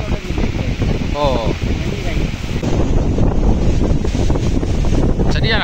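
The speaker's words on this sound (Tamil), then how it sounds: "சரியான காற்று அடிக்குது." Hard wind from Cyclone Fengal batters the microphone in a constant loud roar, with rushing floodwater underneath and a brief voice partway through.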